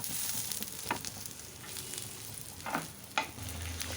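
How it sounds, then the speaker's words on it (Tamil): Veg kebabs sizzle as they deep-fry in hot oil, a continuous close crackle with a few sharper spatters and stirring sounds throughout. "நல்லா கோல்டன் ப்ரௌன் கலர் வர வரையும் நல்லா ஃப்ரை பண்ணுங்கள்."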